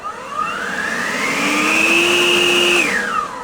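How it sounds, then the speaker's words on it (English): A battery-powered leaf blower kicked onto turbo spins up with a rising whine, holds a loud, steady high-pitched roar, then winds down sharply at the end, close to the microphone and with nobody talking. "this lithely blower is it has both a regular blower function, and then I can also put it on turbo."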